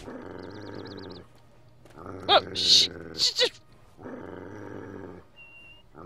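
Video game dog growls and snarls in two short bursts between stretches of droning game music, loud and close, while a player talks over the action.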